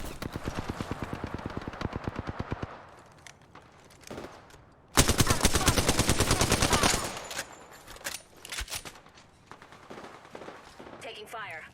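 Rapid automatic gunfire from a first-person shooter game, loud bursts of fast repeating shots with a dense fusillade in the middle and scattered single shots after, with no talking.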